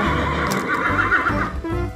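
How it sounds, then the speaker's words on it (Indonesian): A toy zebra plays a recorded horse-like whinny, a loud, close, quavering neigh lasting nearly two seconds with a faint rustle underneath and no talking. "yang ini ada kuda zebra teman-teman"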